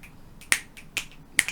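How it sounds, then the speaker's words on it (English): Three sharp, bright finger snaps from an audience member, spaced roughly half a second apart, crisp and close against a quiet background. "I don't want to hear claps. I want to hear finger snaps."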